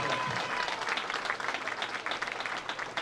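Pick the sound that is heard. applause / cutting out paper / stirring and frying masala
applause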